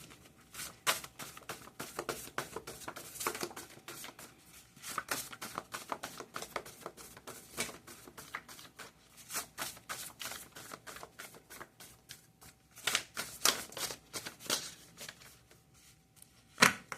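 Tarot cards are shuffled and drawn in rapid papery flutters and soft taps, close and fairly quiet, in bursts with short pauses.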